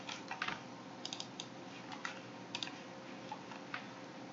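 Quiet, irregular keyboard typing: scattered clicks and short bursts of keystrokes, close by, with no talking.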